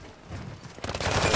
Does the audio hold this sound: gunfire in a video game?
yes